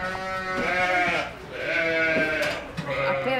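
Ewes bleat on a farm during lambing, drawn-out wavering cries repeating close by, with one call following another and brief gaps of farm ambience in between.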